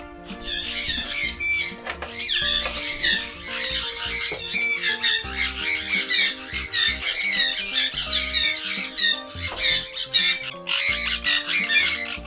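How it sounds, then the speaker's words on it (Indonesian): Loud, dense squawking from a colony of sun conures in an aviary, harsh overlapping calls continuing without pause, close by and filling the whole stretch. "Aduh, berisik banget sih San Konur ini."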